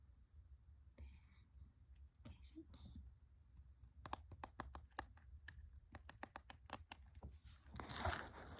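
Keystrokes on a new computer keyboard, quiet at first and then loud, rapid clicky taps in an irregular typing rhythm, close by against a low room hum, with faint whispering.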